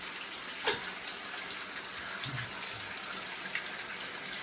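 A LIDL garden hose sprays a steady hissing stream of water while a pet bird showers under it, continuous and close, with faint thumps of water hitting surfaces.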